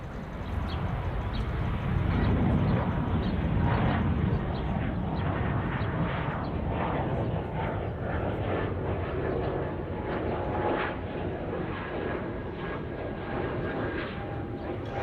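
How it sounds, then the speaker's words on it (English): Distant, steady jet roar of an Air France Airbus A220 rolling for takeoff at Copenhagen Airport, a broad rumbling drone heard from a spotting position, moderately faint, with no clear talking. "Is that Air France A220 now rolling?"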